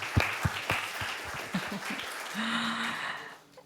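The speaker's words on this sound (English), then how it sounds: "let's have a round of applause" Conference audience applauding after a panel discussion in a hall, a short burst of clapping that starts sharply and then settles into a steady wash before fading out.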